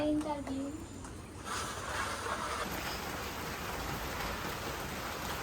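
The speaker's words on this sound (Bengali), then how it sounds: "বৃষ্টি হইতেছে আজকে সকাল থেকে কমে না বৃষ্টি" Steady rain falls in a Bangladeshi village during a low-pressure downpour, a dense even hiss of drops on surfaces that continues throughout, with brief voices near the start.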